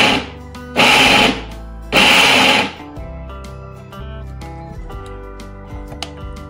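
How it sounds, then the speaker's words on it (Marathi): Mixer grinder blending guava in short pulses: two loud whirring bursts with pauses between, followed by lower mechanical hum and clatter as the jar settles. "आपण आता मिक्सी जार मध्ये काढून घेऊया आणि हे बारीक करूया।"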